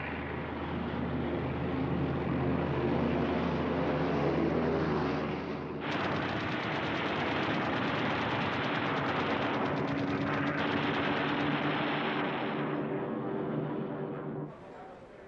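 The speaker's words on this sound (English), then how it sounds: "Messerschmitt Bf-110s followed up in strafing attacks, concentrating on fuel supplies and aircraft in the open." Messerschmitt Bf-110 aircraft strafe with gunfire in a wartime film scene, a dense roar of engines and rattling guns that shifts abruptly midway and carries on loud and continuous until it fades.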